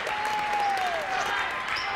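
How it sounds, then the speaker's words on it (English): Crowd at a high school boys basketball game cheering and applauding steadily throughout, dense and sustained, with a whistle-like tone sliding down early on. "BFA crowd very into it now."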